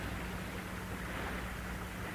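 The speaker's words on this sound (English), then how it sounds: "Nothing but the wind." Steady wind blowing at night in a drizzly outdoor scene, a broad continuous rushing hiss with a low rumble underneath, holding even and unbroken throughout.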